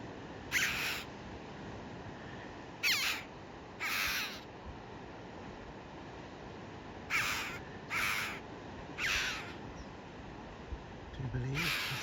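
A chough calls on the North Cornwall coast path, with several harsh, crow-like caws in short bursts spaced irregularly over steady wind noise, moderately distant.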